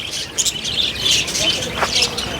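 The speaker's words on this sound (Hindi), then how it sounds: "रंग बिरंगे यहाँ पर अलग अलग प्रजाति की चिड़ियाएँ हैं" Assorted small birds of many species chirp and tweet around a cow shelter in Nagaur, a busy overlapping chorus of high calls filling the whole stretch at moderate loudness.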